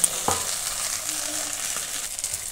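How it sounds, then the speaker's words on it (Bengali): Silver carp frying in hot oil, a steady close sizzle broken by a few light knocks and clicks from a utensil against the pan. "আমি আরও কিছু সময় ধরে মাছটা সুন্দর করে ভেজে নেব।"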